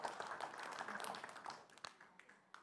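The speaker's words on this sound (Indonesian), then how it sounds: "boleh berikan tepuk tangan untuk pasangan calon nomor urut 1" A faint spell of audience clapping follows a candidate pair at a 2020 Karawang regent election debate, dense at first and then thinning into scattered claps.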